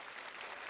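A studio audience at a televised challenge-show final claps in a steady, dense burst of applause, brief and moderately loud.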